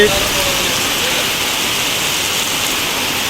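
Heavy rain pours down onto loaded goods vehicles and their cargo, a dense, loud, unbroken hiss without pauses that fills the whole stretch.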